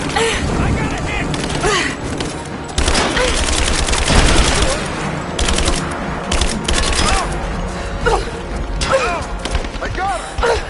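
Heavy, sustained gunfire in a Tomb Raider firefight, with rapid volleys, louder booming impacts and mechanical clatter piling up close and loud, while shouted voices break through the chaos.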